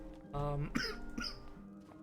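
Two soft coughs, close by and quiet, break through a faint, steady tonal background of Skyrim game audio.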